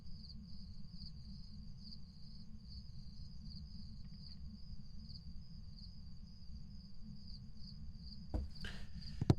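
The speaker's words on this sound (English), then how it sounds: "That buzzing sound is the dots." A D.O.T.S. projector in Phasmophobia gives off a steady high electronic buzz over a low droning background, continuous and fairly faint, with a brief clatter near the end.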